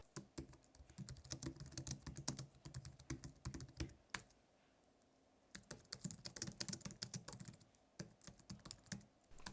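Fingers type on a Logitech MX Keys low-profile keyboard in quick, soft, muted clatters close by, pausing briefly midway before resuming at a steady pace.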